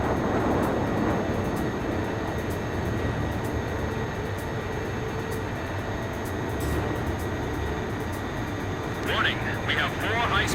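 Aircraft engine in the Ace Combat 5 video game: a continuous loud jet roar holding steady throughout, with radio chatter over it.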